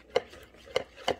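Homemade butter slime made from wood glue being stirred, giving three sharp, wet squelching clicks spaced apart and up close, with no talking.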